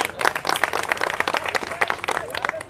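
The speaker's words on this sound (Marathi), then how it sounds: "ए टाळ्या होत्या त्यांच्यासाठी" Crowd applause at a protest meeting in Nashik, many hands clapping in a dense, continuous burst that stays steady and moderately loud throughout.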